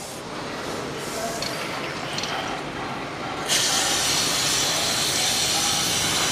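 Pressurised spray washing a Suzuki motorcycle's oil drain plug, whose threads are stripped, giving a steady broadband hiss that grows louder and brighter partway through and continues without a break to the end.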